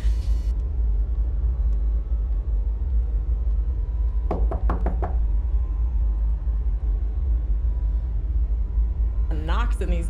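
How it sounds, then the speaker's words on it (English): Knocking on a door in a horror video game: a quick burst of several sharp raps midway over a low rumbling drone, followed later by another knock cluster near the end. "Knocks in these games have been going crazy."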